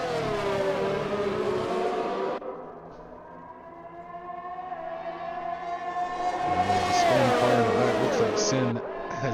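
F1 race cars lapping a damp Australian circuit in an Xbox F1 video game, engines droning and whining steadily with pitch rising and falling through shifts, continuous and fairly loud, with a commentator talking over them.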